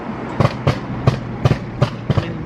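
A BMW F80 M3 running E85 fuel, driven through a tunnel, fires a rapid string of about seven sharp exhaust pops, evenly spaced and echoing over a low engine rumble.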